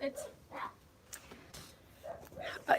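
Dogs bark in short, scattered bursts at a moderate distance, with a person talking quietly underneath.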